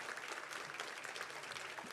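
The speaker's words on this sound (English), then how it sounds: "Please give these ladies a round of applause." An audience at a recognition event claps in a dense, steady round of applause that holds evenly throughout, heard at a moderate distance.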